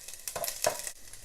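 Mustard seeds, urad dal and ginger sizzle and crackle in hot oil in a pan, with a short burst of frying hiss and a light stir, close and brief.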